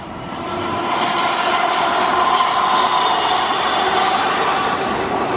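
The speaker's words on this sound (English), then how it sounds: "the train here coming by" A train rumbles past close by in Portland's Lents District, near a freeway, a steady loud roar of wheels and rail noise with faint high squeals, building in the first second then holding.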